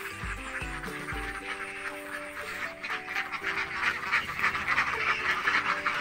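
Laying ducks about six months old quack steadily in a pen on a farm, a dense, continuous chorus of many birds heard close, with low thumps near the start.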